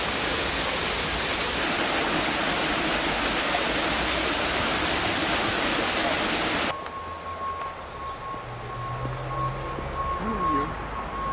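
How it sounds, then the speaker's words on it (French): Artificial waterfall in the Jardin des Plantes, Toulouse, a loud dense rushing roar of falling water that cuts off abruptly partway, leaving quieter outdoor ambience with distant birds. "Une belle cascade artificielle."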